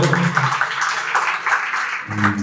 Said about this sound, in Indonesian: Untuk itu mari kita beri aplaus untuk beliau.